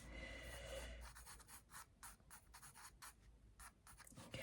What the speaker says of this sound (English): Just roughly put it in with your pencil.